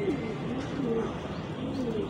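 Teddy pigeons coo in soft, repeated throaty calls close by, with a few light chirps among them over a low, steady background hum.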